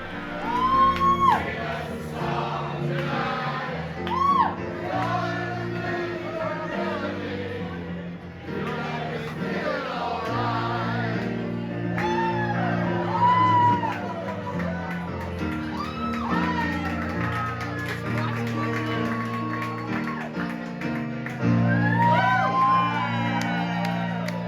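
A lively crowd at a French Quarter dueling piano bar in New Orleans shouts, whoops and cheers continuously over piano music, with voices rising and falling in bursts throughout.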